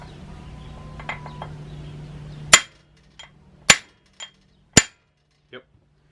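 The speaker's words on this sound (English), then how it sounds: "We'll see if we can use this drift instead." A steel drift struck with a hammer to shock loose the flywheel on a 1954 Eclipse Tornado 800 sickle bar mower engine: a low hum gives way to four sharp, ringing metallic blows spaced about a second apart, with lighter taps between, loud and close.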